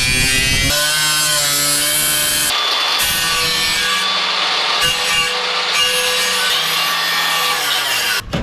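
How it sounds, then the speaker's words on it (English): A battery-powered cordless saw cuts through wood during work on an old Ford, a loud continuous rasping buzz running steadily with brief pauses and pitch dips as the blade bites and eases, close and alone without talk. "let me grab my little tool over there with the battery and we'll begin cutting this."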